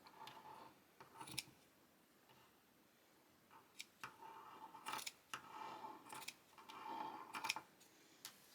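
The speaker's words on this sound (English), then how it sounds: "And I have my larger scissors than usual, and I'll just go straight across." Large scissors snip across crochet yarn on a moss stitch blanket scarf, a series of quiet, close, crisp cuts in irregular clusters, with no talking.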